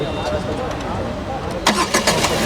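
The engine of a 2023 Tata Tiago XT hatchback cranks and catches after a stretch of background noise, followed by a few pulsing bursts as it settles, with someone talking throughout.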